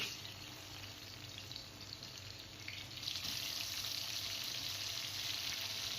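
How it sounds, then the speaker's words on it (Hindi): Chopped onions hitting hot oil in a pan while cooking malai kofta masala, a steady fine sizzle that grows louder and brighter midway as frying intensifies, continuous and close with no voices. "सबसे पहले हम ऑयल गरम किया है, इसके अंदर प्याज ऐड करेंगे।"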